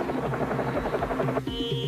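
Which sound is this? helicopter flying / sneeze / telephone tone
helicopter flying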